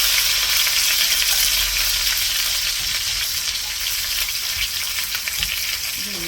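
Masala and curry leaves fry in a pan with a loud, close, continuous crackling sizzle, dense and bright throughout, with faint stirring scrapes underneath.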